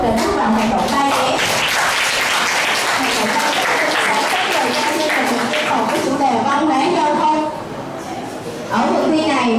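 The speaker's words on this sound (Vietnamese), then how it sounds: "chúng ta hãy cùng nhau cho một tràng vỗ tay thật lớn" Sustained, loud audience applause from a crowd of students at a school traffic-culture event, dense clapping throughout with voices mixed in, dipping briefly near the end before swelling again.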